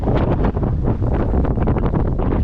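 Strong wind buffets the microphone while trolling from a fishing kayak straight into a headwind on a rough-weather day, a loud, continuous, gusty rumble with no speech.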